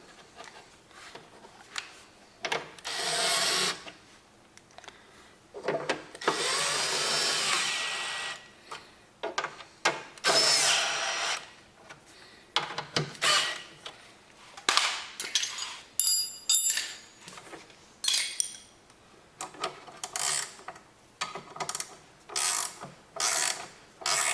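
Bolts on the steel bracket of a John Deere lawn tractor's grass blower being tightened, close ratchet clicks in irregular bursts with pauses and some longer metallic rasping runs, no voice.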